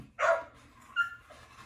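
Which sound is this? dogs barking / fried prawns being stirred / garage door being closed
dogs barking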